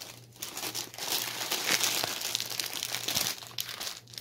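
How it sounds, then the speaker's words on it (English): Packaging crinkles and rustles steadily for several seconds as it is handled close by, a dense crackly texture with a faint steady hum underneath and no talking. "Stop crinkling."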